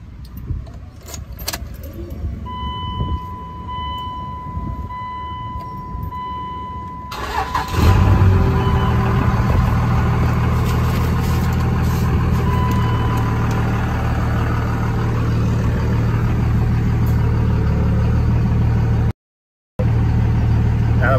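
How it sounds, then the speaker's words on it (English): A Dodge Ram 2500 second-generation pickup with a Cummins 5.9 diesel; keys jangle and a beeping chime sounds first, then the engine cranks and catches, settling into a loud, steady diesel idle that continues to the end. "So we're gonna start it up, and then run it through reverse,"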